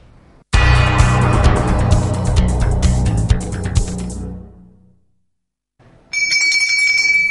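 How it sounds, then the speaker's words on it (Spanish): A bell rings as a segment jingle on a Tuluá local TV news broadcast. A loud, dense burst runs about four seconds and fades out. After a short silence, brighter bell-like ringing tones return near the end. "Sigue sonando nuestra campana"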